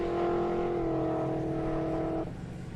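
A Mitsubishi Sigma fitted with an LS V8 engine roars loudly at a drag strip, a steady high-revving engine note held for about two seconds before cutting off abruptly, leaving quieter background rumble.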